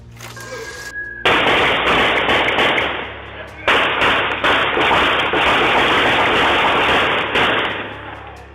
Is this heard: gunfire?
yes